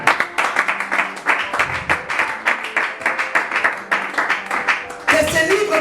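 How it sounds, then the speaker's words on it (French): A church congregation claps and cheers in praise of the Lord, with rhythmic applause and voices calling out over it at a lively, steady pace. "On acclame le Seigneur."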